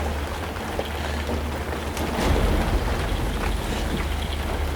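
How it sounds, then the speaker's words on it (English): Hail and heavy rain pound a tent during a thunderstorm, a dense, steady patter that swells louder partway through, with a low rumbling undertone beneath the drumming on the fabric. "there's a hailstorm outside"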